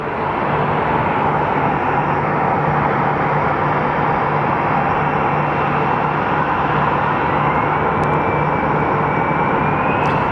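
Aircraft engines rumble and whine on the ground at Sky Harbor Airport with several airplanes lined up in a takeoff queue, a loud, continuous roar holding steady throughout, with a faint rising tone near the end.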